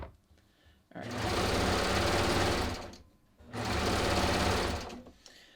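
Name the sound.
serger sewing machine stitching fabric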